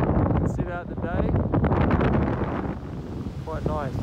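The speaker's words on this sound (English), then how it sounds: "Well, this is Dongara South Beach. Nice and windy." Wind blows at Dongara South Beach, a blustery roar buffeting the microphone with surf nearby, under someone talking throughout.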